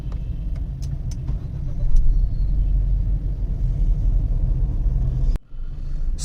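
Push-button start of a 2021 MG HS 1.5 SUV: a loud, steady engine rumble runs close by for several seconds, then cuts off abruptly near the end, no voices.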